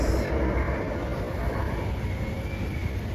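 A light rail train rumbles past nearby near the LRT Cavite Extension in Parañaque, a continuous low roar with a thin high whine running throughout, no talking.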